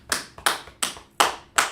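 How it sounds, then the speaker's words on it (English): Classroom clapping: five sharp, evenly spaced claps in a steady rhythm, close and clear with no talking over them. "let's clap it up for him, Ever."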